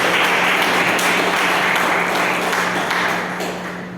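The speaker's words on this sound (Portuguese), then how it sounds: "Você pode aplaudir Jesus?" Congregation applauding during a Sunday church service in Brazil, a dense steady wash of clapping that fills the space and begins to fade near the end, with a faint steady hum beneath.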